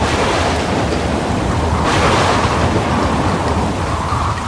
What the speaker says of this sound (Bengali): গিন্নি, বৃষ্টি তো কিছুতেই থামছে না।